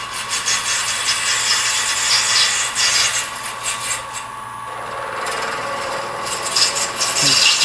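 A wooden pen blank turns on a lathe as the tool cuts it, giving a close, continuous scraping and rasping whose tone shifts partway through, with no talking.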